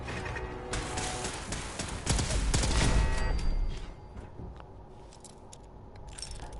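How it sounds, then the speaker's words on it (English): Automated turrets firing in Fallout 4, a rapid rattling burst of gunfire with metallic clatter that swells loud for a couple of seconds before tapering off into scattered quieter shots. "They have turrets in here. They legit tried to kill me now."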